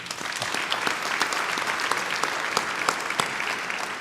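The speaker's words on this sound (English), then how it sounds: "let's give them a round of applause." Steady audience clapping at an author talk about a book on World War veterans, a brisk, even round of applause with sharp individual claps standing out, lasting about four seconds.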